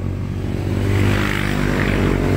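A Yamaha Scorpio 225 cc motorcycle engine idles steadily and close by, a continuous low rumble with no revving and no talk.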